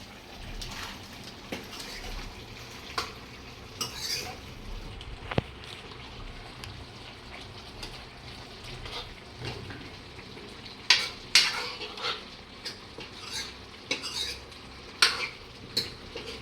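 A spoon stirs mutton curry with mutton masala in a pan, giving soft scraping and sizzling with scattered sharp metallic clinks and taps. The sound is fairly quiet and continues steadily throughout.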